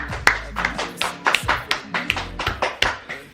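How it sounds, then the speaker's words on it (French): Hands clapping in a steady rhythm of about a dozen sharp, close claps, evenly spaced and fairly loud, with no talking over them. "Applaudissez."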